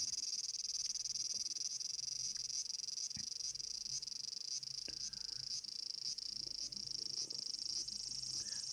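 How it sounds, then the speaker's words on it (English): A dense, continuous high-pitched insect drone fills the air, constant and steady throughout, with faint scattered background clicks underneath. "The cicadas were annoyingly noisy."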